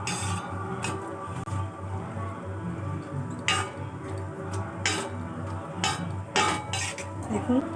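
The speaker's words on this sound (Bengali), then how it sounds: "দেখুন মিষ্টি আমি লাল করে ভেজে নিয়ে তুলে নিচ্ছি" Gulab jamun fry in a pan and are lifted out, with scattered metallic clinks and taps from the utensil over a steady low background hum.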